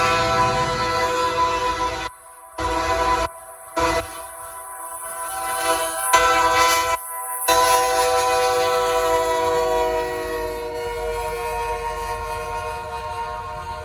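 Norfolk Southern train sounding a K3L horn, a loud, close, multi-chime blare in several choppy blasts with brief gaps, then one long sustained note over the rumble of passing rail cars, with no talk.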